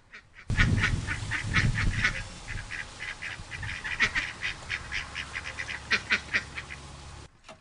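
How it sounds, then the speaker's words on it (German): A flock of runner ducks quacking and chattering, a busy run of short nasal calls close by, loud and overlapping at first, then sparser, separate quacks. "Während die Enten draußen schnattern"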